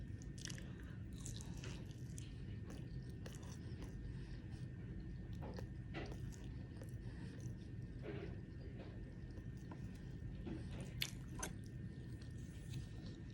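Someone eats turkey sausage and eggs up close, with soft chewing and occasional bites and squishy mouth sounds over a low steady background hum, no talking.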